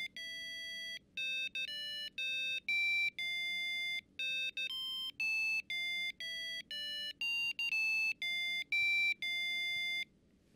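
A small buzzer driven by an Arduino-compatible Diduino board's timer plays a simple melody of clear, sustained electronic tones, about twenty notes in an uneven rhythm with short gaps, loud and close with no voices.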